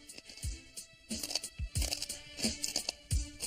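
Gritty crunching and crackling bites as someone chews glass, repeating at an irregular pace, close and fairly quiet, with no voice over them.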